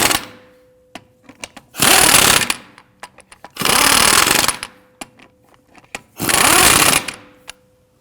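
Power tool snugging down lug nuts on a Ford Interceptor Utility wheel, three loud sustained bursts of roughly a second each, separated by short pauses with small clicks and clanks in between.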